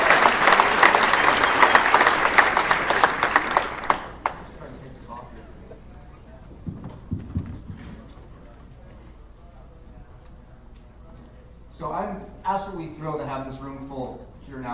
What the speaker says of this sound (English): Let's give a hand of applause for Nick for organizing this awesome.